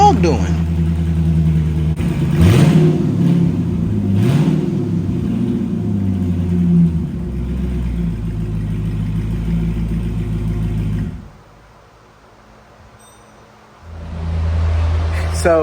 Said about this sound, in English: So I don't think it exactly sounds the best. I believe there's an exhaust leak.